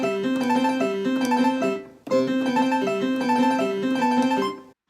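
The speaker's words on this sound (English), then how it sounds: "And here's the harpsichord sound." Electronic keyboard set to a harpsichord voice, playing a bright plucked melodic phrase twice with a brief gap between, close and steady with no talk.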